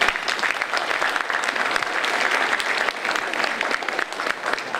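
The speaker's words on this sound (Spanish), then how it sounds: "un aplauso para él" An audience at a 2014 student career-guidance talk claps steadily for a guest, a dense, even round of applause holding at a constant level throughout, with no voices over it.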